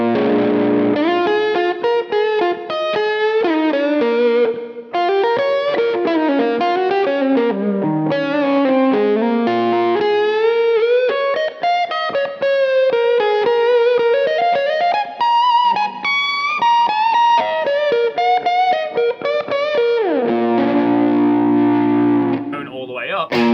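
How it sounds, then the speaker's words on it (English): A Gibson Les Paul electric guitar with its tone knob rolled well down plays a melodic lead line with a warm, dark, smooth "woman tone", sustained notes and bends, loud and close, ending on strummed chords. "As I roll that tone off even more, you can kind of get that woman tone"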